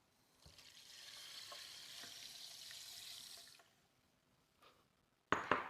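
Water poured steadily over long grain white rice for a few seconds, a hissy rushing pour that stops, followed by a brief clatter and a sharp knock at the end.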